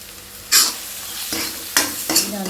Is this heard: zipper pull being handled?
no